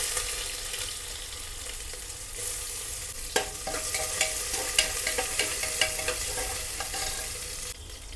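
Onion dropped into hot oil already holding cumin, bay leaf, cinnamon, black pepper and cloves, frying with a steady broadband sizzle and scattered spoon-stir clicks and scrapes, close and alone with no talk.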